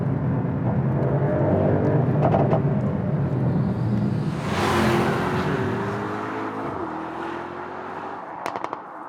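Mercedes-AMG GT63 with its 4-litre twin-turbo V8 revs loudly up close, the engine note sweeping up and down over several seconds before settling, with a few sharp crackles near the end.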